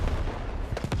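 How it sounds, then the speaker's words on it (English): Artillery fire in a military video game set in the streets of Fallujah, heard as a dense rumbling barrage of low blasts with a couple of sharper pops near the end, loud and continuous. "artillery just blasting ahead of them"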